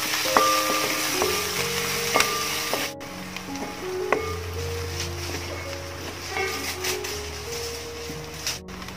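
Sliced onions sautéing in a pan for a Kerala-style masala fish curry, a continuous close sizzle with occasional scrapes and clinks of a spatula, with no talk.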